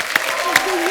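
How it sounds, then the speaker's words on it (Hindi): Studio audience applause greets guest Milap on The Kapil Sharma Show, a steady one-second burst of clapping with a host's voice talking over it. "जोरदार तालियां मिलाप के लिए।"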